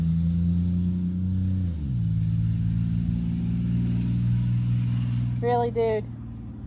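A passing car with a loud aftermarket muffler gives off a deep, rumbling exhaust drone that holds steady, drops in pitch and carries on. Someone speaks briefly near the end.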